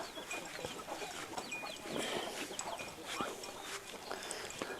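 Chickens cluck and chatter softly at a Thai farm among ducks and buffaloes, with scattered short calls over a busy outdoor background and faint voices nearby.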